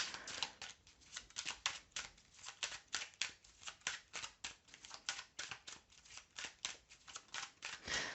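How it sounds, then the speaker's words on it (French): Tarot cards being shuffled by hand, quiet rapid rhythmic riffling in repeated short bursts close to the microphone, with no voice. "quand je bats les cartes"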